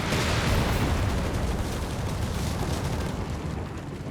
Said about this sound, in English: Commander, we have artillery on standby